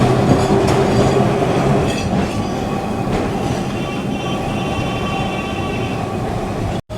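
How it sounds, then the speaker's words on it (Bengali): A Kolkata tram runs on a rainy day, its steady rumble and rattling wheels loud and close from on board, with rhythmic clacks over the rails and a sudden cutoff at the end. "বৃষ্টি ভেজা দিনে ট্রাম জার্নি করছি"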